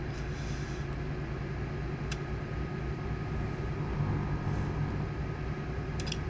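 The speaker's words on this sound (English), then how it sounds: "so that slight humming noise you can hear is the engine's retarder." A truck's engine retarder hums steadily in Euro Truck Simulator 2 while cruising on a motorway at 50, a low, continuous drone with faint road rumble and no other distinct events.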